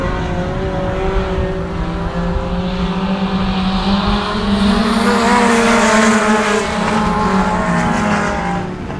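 Mini stock race cars roar around a dirt oval at Genesee, a dense, continuous engine drone with shifting revs as the pack passes, loud and steady throughout.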